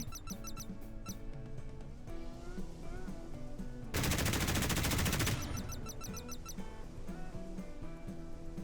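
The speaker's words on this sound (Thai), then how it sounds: "มันหันยิงรอบที่ได้เองด้วย ปล่อยมิสไซล์เองด้วย" Warship guns fire automatically in the naval combat game Modern Warships, with missiles launching alongside. Rapid repeated gunshots build into a dense, roaring burst of fire in the middle, all at a fairly low overall volume.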